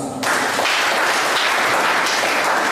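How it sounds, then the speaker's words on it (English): A crowd applauds steadily for Ghana embassy officials at a Ghanaian community gathering in Tripoli, Libya, a dense wash of clapping that starts abruptly and stays loud and even throughout. "The Head of Chancellor of the Embassy of Ghana, a round of applause."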